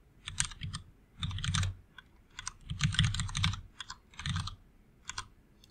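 Bursts of typing on a computer keyboard while setting up Microsoft Remote Desktop Services licensing, close and crisp, coming in several quick runs of keystrokes separated by short pauses.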